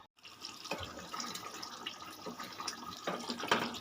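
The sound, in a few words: pouring a little water into cauliflower roast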